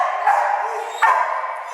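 A rescued mother dog at an animal shelter barks and yips close by, two sharp bursts over a steady whining tone, with no talk.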